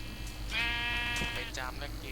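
A Minecraft sheep gives a clear, wavering bleat, fairly close and loud, with a shorter bleat following, as a player talks under it.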